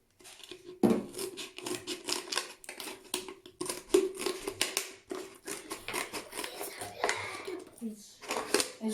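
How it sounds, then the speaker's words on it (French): Scissors cut into an empty plastic bottle with a run of crisp snips and crackling plastic, close and fairly quiet, while a person talks over much of it. "On va avoir besoin de cette bouteille vide. Donc, on va couper."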